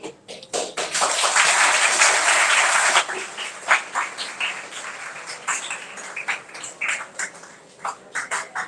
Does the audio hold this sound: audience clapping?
yes